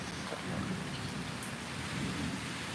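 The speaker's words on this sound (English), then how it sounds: "it's raining right now as we speak" Heavy rain pours during a storm in Mexico, a dense, steady wash of drops on surfaces with a low rumbling undertone, constant and fairly close, with no voices.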